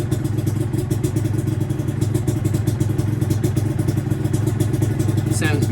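A Yamaha DT125LC two-stroke motorcycle idling on half choke, a loud, steady, close engine run with a fast, even crackling pulse throughout.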